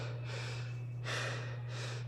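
Heavy, labored breaths after a round of sit-ups, three slow exhalations close to the microphone over a steady low hum, with no talking.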